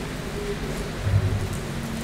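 Steady rain falls in a continuous hiss, fairly close and even, with a slight swell midway and no talk over it.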